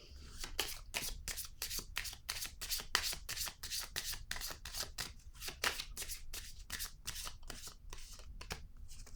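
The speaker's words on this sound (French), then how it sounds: "Je vais déposer une carte ici." Tarot cards are shuffled quickly by hand, making a dense, steady stream of soft riffling and flicking strokes. The sound is close but fairly quiet and continues without talk.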